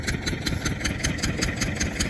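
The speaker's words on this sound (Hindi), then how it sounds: "बाइक ले आवा है" A motorbike engine idles with a steady, even chugging pulse, moderately close and fairly quiet, running alone without voices.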